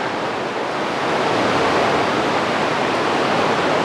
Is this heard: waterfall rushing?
yes